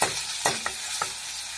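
Onion with ginger and garlic hits hot oil in a pan for a paneer curry, a soft sizzle under three or four quick spatula clinks and scrapes.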